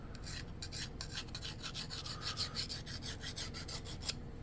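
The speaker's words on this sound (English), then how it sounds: "it's a scissor sharpening file. So I'm just gonna take it on this inside because I do feel a couple burrs" A scissor sharpening file rasps burrs off the inside of a stainless steel part on an RC hydroplane. The strokes are quick, rhythmic and close, and no one talks over them.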